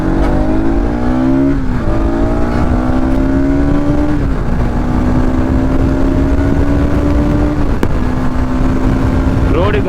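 A Bajaj Pulsar NS200 motorcycle ridden fast on an empty road, its engine droning loudly and continuously with shifting pitch under steady wind roar.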